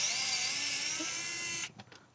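A cordless power driver whirs steadily for about a second and a half while removing panel screws on a Tesla Model 3, then cuts off, followed by a few faint clicks and handling noises.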